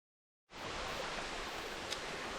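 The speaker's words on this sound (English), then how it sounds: "there is a creek that comes down the side here. A stream that comes off the mountain" A mountain creek flows beside the Old Loggers Path trail near Canton, PA, a steady broadband rush of water that starts abruptly and holds constant, close and fairly soft.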